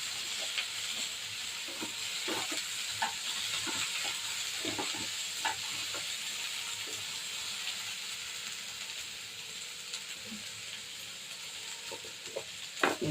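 Sliced okra sizzles in hot oil with curry leaves and onion in a pan, a steady frying hiss broken by intermittent scraping and clinks of a spatula stirring.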